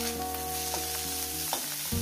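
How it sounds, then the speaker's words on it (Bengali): Shrimp and greens frying in a pan, stirred with a few scraping strokes over a continuous sizzle, beneath a musical backing track and no speech. "এটাকেও একদিন একটু নাড়াচাড়া করে নেবো"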